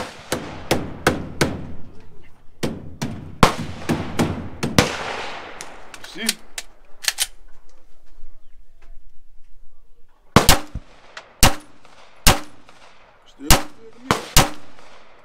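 A rifle is fired while its Cyelee Optics Shark X Pro scope is being tested at a range, giving a series of sharp, loud reports in irregular clusters with quieter gaps and brief voices in between.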